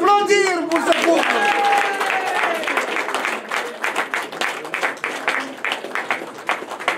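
Wedding guests clap for the newly married couple, a warm burst of applause with some voices at first, thinning into scattered, uneven claps toward the end.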